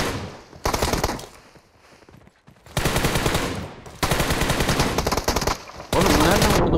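Automatic gunfire in the mobile battle royale PUBG Mobile, loud close bursts of rapid shots in several long volleys separated by short pauses.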